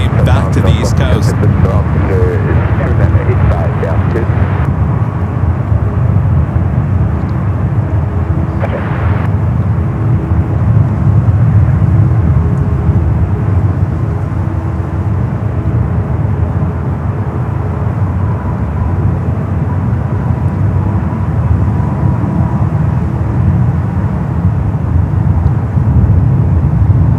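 A Boeing 787 Dreamliner in special livery departs San Francisco for the East Coast, its engines a deep, sustained rumble that holds steady for the whole stretch, with a brief brighter hiss early on.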